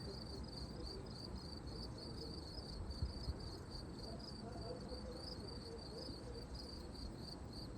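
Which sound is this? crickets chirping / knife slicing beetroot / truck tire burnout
crickets chirping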